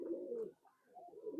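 A nakatana pigeon gives a close, soft, throaty coo in two short phrases with a brief pause between them.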